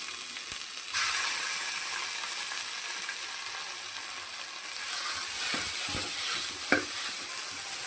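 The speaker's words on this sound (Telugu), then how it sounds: "అల్లం పేస్ట్ పచ్చివాసన పోయేంత వరకు వేయించుకుందాం." Ginger paste fries in a pan with a constant hiss and crackle, punctuated by a few sharp utensil scrapes and clicks from stirring near the end, no talking.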